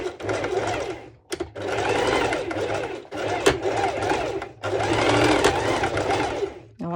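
A home sewing machine runs a straight stitch on fabric for an underwire bikini top, whirring loudly and close in four long runs separated by short stops.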